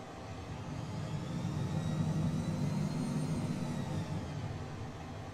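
Phenom 100 business jet in Microsoft Flight Simulator 2020 taxiing on the runway at Khartoum, Sudan, its engines a steady low rumble and whine that swells slightly mid-turn, heard alone without talk.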